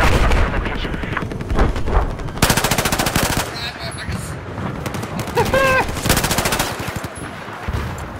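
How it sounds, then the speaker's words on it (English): Video game machine gun fire rattles in loud, rapid bursts at close range, layered with heavier booms and battle noise while voices talk over the combat. "Have eyes on the hostile machine gun"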